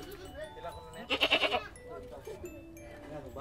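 Large farm goats bleating in a short pulsed burst near the middle, with faint background chatter and farm ambience around it.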